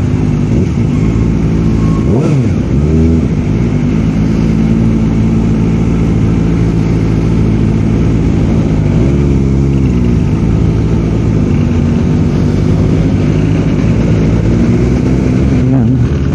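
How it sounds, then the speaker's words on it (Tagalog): Several cars pass by on a road in early-morning traffic, a steady engine rumble with swells as vehicles go past, heard from a rider on a Kawasaki ZX-4RR motorcycle, no talking. "Medyo marami ng sasakyan, ano?"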